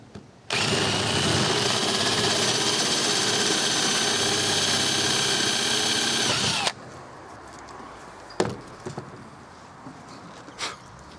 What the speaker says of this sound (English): I'm going to drill a hole right here.